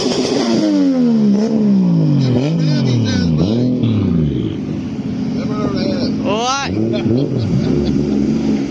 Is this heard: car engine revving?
yes